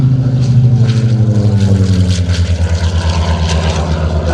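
An SB2C-5 Helldiver propeller warplane flying at the Geneseo air show, its big piston engine giving a steady, loud droning roar with a slowly falling pitch as it passes, alone without talk.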